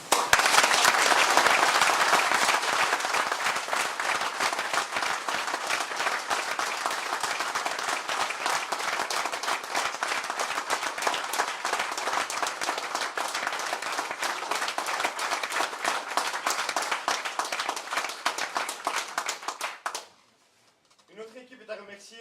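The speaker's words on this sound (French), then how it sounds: "Je vous propose de lui adresser notre merci par des applaudissements nourris." Sustained audience applause fills a municipal council installation session, dense and steady clapping from a large crowd for about twenty seconds before cutting off abruptly into near silence.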